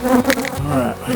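Honeybees in a swarm being rescued, a dense close buzzing hum with wavering pitch, rising and dipping slightly over a brief moment, no voices.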